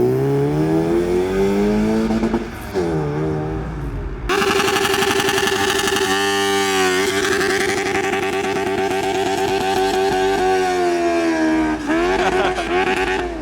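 Loud modified Japanese cars pull away from a car meet in Reading, engines revving hard one after another with rising and falling harmonic tones, a sharper burst of throttle near the start and continuous close engine roar throughout.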